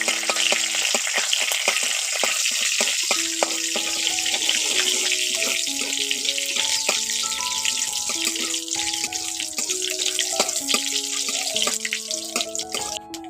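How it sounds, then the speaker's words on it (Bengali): A tempering of bay leaf, halved dried red chillies and panch phoron fries in oil in a wok with a continuous bright sizzle, and steady background music plays over it. "এখন ফোড়নটা ভাজা হয়ে গেছে।"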